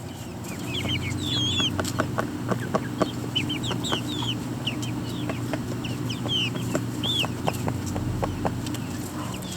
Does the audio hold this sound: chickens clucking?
yes